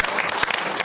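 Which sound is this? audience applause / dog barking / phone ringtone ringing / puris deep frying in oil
audience applause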